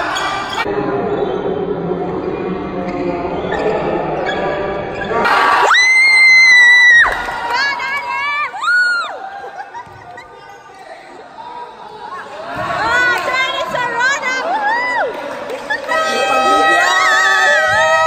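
A basketball arena crowd cheers and shouts for a 68-year-old dad playing in a game, loud bursts of cheering and children's high-pitched yells rising and falling, with chatter and talking mixed in throughout.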